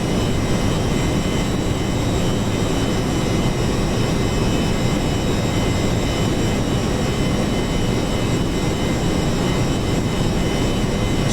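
Steady jet engine drone of a B-1A bomber cruising at altitude in a flight game, a loud continuous roar with a faint whine layered on top and no change in level.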